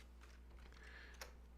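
Computer keyboard typing: a handful of faint, scattered key clicks over a quiet hum, with one sharper tap near the end.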